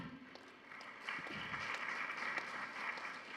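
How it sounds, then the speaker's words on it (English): A crowd breaks into steady applause that swells after a moment and carries on, moderately loud and a little distant. "Another round of applause for him."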